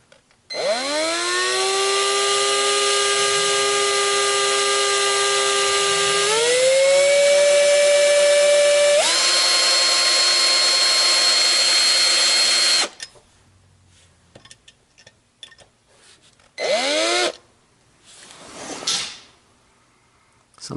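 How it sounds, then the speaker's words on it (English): A power drill with a brand new small bit bores slowly into a broken-off piece, a long steady whine that shifts pitch twice, then stops, followed by short bursts and quiet handling noises. "But I'm going to drill this really slowly, and this is actually a brand new drill bit."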